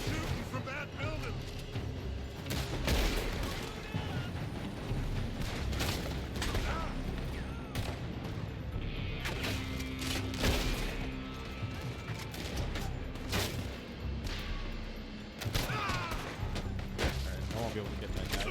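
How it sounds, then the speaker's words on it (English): Video game gunfire heard as scattered sharp shots and crackling volleys over a dense, noisy battle backdrop, fairly muffled and continuous, with someone talking throughout. "They're shooting from that building."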